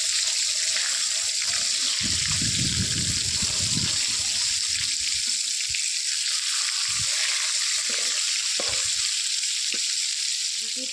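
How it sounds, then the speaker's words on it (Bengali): Pieces of rui fish frying in hot oil until crisp, a bright continuous sizzle with a burst of rumbling bubbling early on and a few soft knocks of a spatula. "মাছটাকে ভালো করে কড়া করে ভেজে নিতে হবে"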